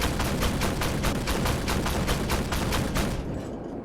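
A tank cannon in Armored Warfare fires on an LAV 150 in a loud, rapid train of about a dozen evenly spaced shots that fade out at the end.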